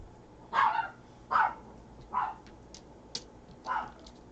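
A puppy barks alone in short, sharp yaps, five of them spaced about a second apart, close by and moderately loud against a quiet room hum.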